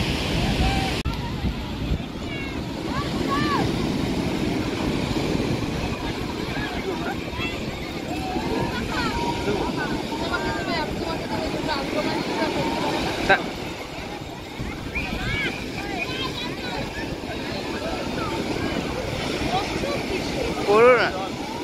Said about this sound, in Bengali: প্রেসার দেখে ঢেউগুলো কত বড় বড় ঢেউ আছে।